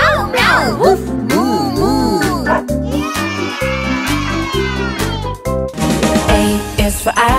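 Sung cat meows in a children's phonics song, rising and falling 'meow' syllables over a bouncy musical backing with other animal-sound imitations; the voice imitates the cat rather than a real animal.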